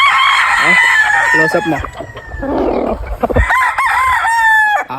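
SBR Tornado, a gamefowl rooster on a farm, crows loudly at close range in a long, strained call, and a voice speaks briefly over it.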